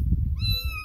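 A farm kitty gives a single short, clear meow close to the microphone, alone over a low background rumble.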